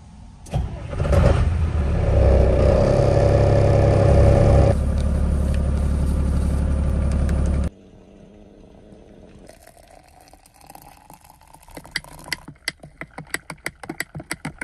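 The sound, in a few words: truck engine starting and idling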